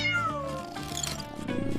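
A cat meows amid toy-adventure play sounds: a short, moderately loud mew, with music and soft clatter around it.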